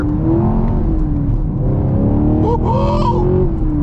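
A Camaro 2SS 1LE V8 accelerates hard on a cold morning, engine roaring up in pitch as the tires spin without grip, with a rising whine and squeal of wheelspin near the end, loud and close.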